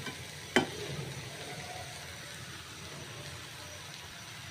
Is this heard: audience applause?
no